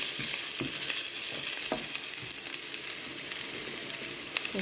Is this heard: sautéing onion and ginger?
yes